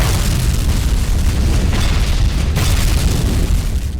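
In the video game Gungriffon: Allied Strike, a huge cannon shell slams into a tank, producing a loud, sustained booming blast with dense rumbling explosion noise that fills the whole stretch without voices.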